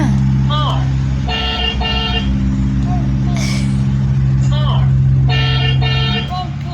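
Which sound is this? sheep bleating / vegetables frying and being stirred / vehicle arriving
vehicle arriving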